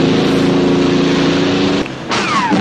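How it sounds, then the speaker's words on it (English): Loud motorboat engines roar and whine close by in a boat chase from the 1963 film From Russia with Love, then briefly drop away before a fast high-pitched engine sweeps back in. "Now we got a boat chase."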